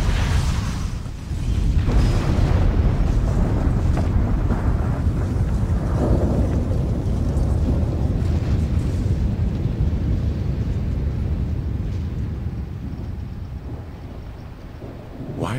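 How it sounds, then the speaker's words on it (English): Explosions in the action video game Asura's Wrath boom loud and sustained, with a dense rumbling roar that holds steady, then eases slightly toward the end. "Took care of him through explosions."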